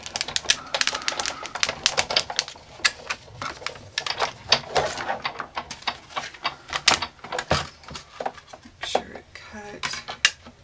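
A thin metal sheet is cranked through a die-cutting machine to cut out metal flower embellishments, giving a close, busy run of irregular clicks, ticks and rattling clatter without any talk.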